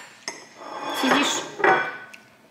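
Plates and cutlery clatter and clink for a couple of seconds, with a sharp tap near the start and a louder scrape toward the end.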